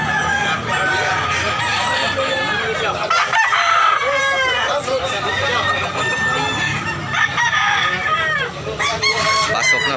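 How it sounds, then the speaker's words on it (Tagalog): A crowd of roosters from Boss Edwin's flock crows loudly and continuously, the long overlapping cock-a-doodle calls layered over steady hen clucking and farmyard chatter. "Mao ni mga manok nilang Boss Edwin"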